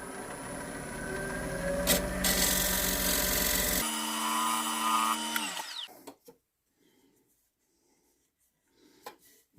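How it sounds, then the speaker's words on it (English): A woodturning lathe spins an olive wood rectangular platter while a tool scrapes it, a loud steady whirring and grinding that runs for about six seconds before cutting out, leaving near silence with a few faint knocks. "So now, just a little touch of scraping and it should be good."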